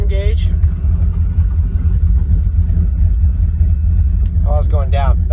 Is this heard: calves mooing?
no